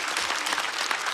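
Audience applause at a televised music competition stage show, a dense, steady wash of clapping from a large crowd, loud and continuous without pause across a short burst.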